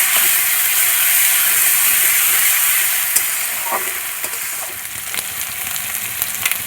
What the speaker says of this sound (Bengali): ভালো করে পেঁয়াজের সঙ্গে কষিয়ে নেব।